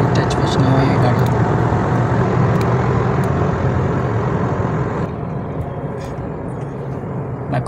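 Steady low engine drone and road rumble inside a moving car on the way to Hyderabad, loud and continuous throughout, easing slightly partway through, with no one talking.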